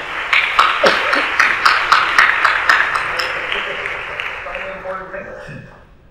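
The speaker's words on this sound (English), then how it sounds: "So please give a warm round of applause for" Audience applause for a keynote speaker at a 2019 IIT Bay Area leadership conference, a room of clapping that rises quickly, stays dense and steady, then slowly thins and fades over about six seconds.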